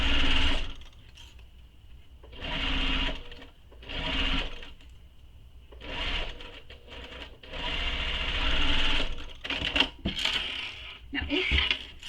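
A sewing machine stitches a handbag seam in several bursts of close, rapid whirring separated by short pauses, with small clicks and handling noises in between.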